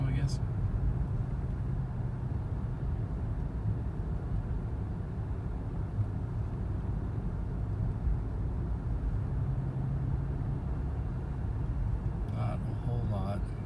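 A car fitted with a Mina Gallery exhaust idles and coasts at about 1200 RPM, giving a low, steady, even rumble that holds unchanged throughout, with a brief faint clatter at the start and near the end.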